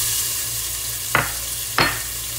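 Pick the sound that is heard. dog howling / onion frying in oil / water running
onion frying in oil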